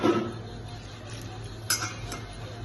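Yeast pizza dough being mixed by hand in a bowl, soft continuous scraping and stirring with a few light clinks against the bowl, quiet and close.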